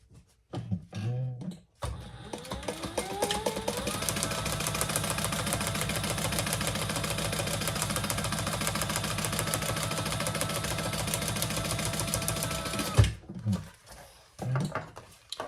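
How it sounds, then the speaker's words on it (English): A sewing machine top stitches across the side of a fabric messenger bag, running in one steady, continuous mechanical hum for about eleven seconds, with brief handling noises before and after. "And then we're going to stitch across the top stitch."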